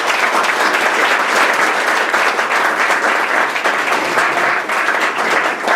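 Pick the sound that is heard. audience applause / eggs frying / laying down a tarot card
audience applause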